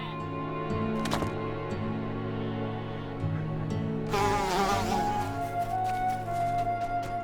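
Bees buzzing in the Lord of the Rings Online video game, a steady insect drone under game music and ambience, swelling louder in the second half of the clip.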